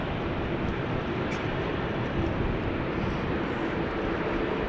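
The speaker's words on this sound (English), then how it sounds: "Here we have the Dreamliner to Nairobi coming this way." Boeing 787 Dreamliner bound for Nairobi at a rainy Amsterdam Schiphol Airport, a steady broad jet roar holding even loudness throughout, without distinct changes.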